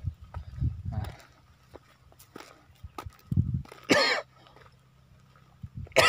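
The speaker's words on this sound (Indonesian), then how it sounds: "Batuk teman-teman" A person coughs a couple of times amid outdoor rustling and light footsteps beside a flood-stunted sugarcane crop, with short harsh bursts standing out near the middle and end.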